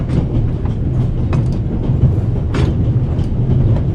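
A train runs on rails in the video game The Raven: Legacy of the Master Thief, a loud, continuous rumble with rhythmic clattering and no voices.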